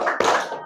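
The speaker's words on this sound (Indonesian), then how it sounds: "mari kita lakukan tepuk salut" A classroom of standing students does a tepuk salut clapping routine, a short burst of hand claps and slaps with a sharp strike partway through, close and fairly loud, under a brief murmur of voices.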